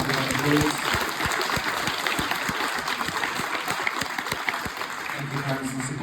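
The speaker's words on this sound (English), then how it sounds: "Those guys give a round of applause." An audience applauds music leaders at a youth music event, with steady, dense clapping throughout and some voices in the background.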